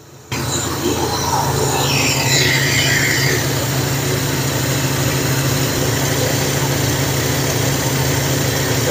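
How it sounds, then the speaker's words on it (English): Car engine with an electronic Quadrajet carburetor idling steadily, a continuous low rumble that stays even throughout at close range, with brief faint higher sounds early on. "The engine's idling a lot smoother now"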